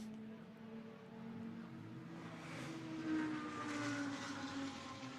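A GT2 race car at the Misano circuit in a broadcast, its engine drone rising and falling in steady tonal bands at moderate distance, under a continuous ambient wash with no voices.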